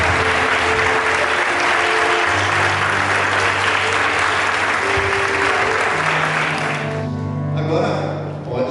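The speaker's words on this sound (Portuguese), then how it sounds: "Vamos aplaudir ao Pai." Congregation applauding at a wedding ceremony, a loud, dense wash of clapping that holds steady for most of the stretch, with a sustained organ or keyboard tone underneath, then thins out near the end.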